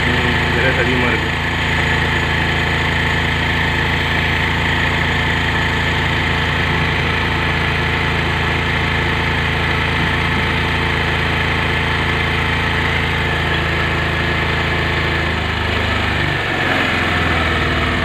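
Motorcycle engine idling at high revs during a mileage tune-up, a steady loud drone holding constant throughout, with faint talk underneath.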